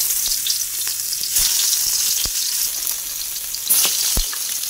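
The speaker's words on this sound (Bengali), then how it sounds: "এখন আমি এক এক করে মাছ লবো আর কড়াইতে দিয়ে দেবো সুন্দরভাবে" Fish pieces fry in very hot oil in a kadai, giving a continuous close, dense sizzle with scattered sharp pops and crackles throughout.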